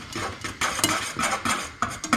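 A spoon stirs semolina milk pudding in a pot, making close, irregular scraping and clinking strokes against the metal with soft bubbling between them.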